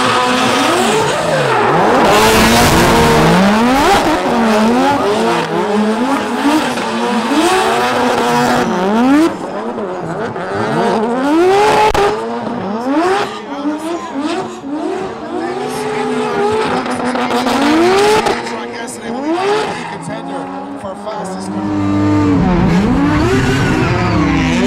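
An FC rotary drift car and a cream 240 drift car battle in a drifting competition, engines revving in loud, rising and falling sweeps, with tires squealing and skidding continuously throughout.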